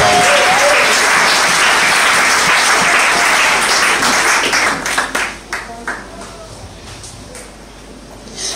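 A church congregation at a Sunday service applauds loudly for the Lord, a dense wash of clapping that holds steady, then thins to scattered claps and fades out.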